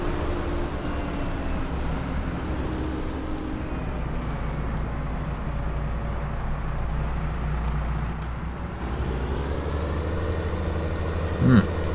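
In Farming Simulator 19, a tractor engine idles with a steady low rumble throughout, quiet and constant, with speech faintly present over it.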